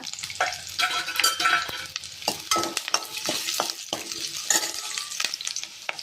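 Food, such as urad dal for a curry, frying in a pan while being stirred: continuous close sizzling with repeated scraping stirs against the pan and no voices.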